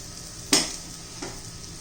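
Bitter gourd slices frying in a pan with oil, a faint sizzle broken by two sharp utensil clinks or scrapes, the first louder than the second.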